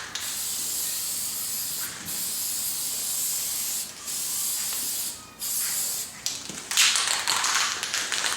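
Aerosol spray paint hisses in light passes over car interior dash trim, several short bursts with brief pauses, the final bursts louder and closer.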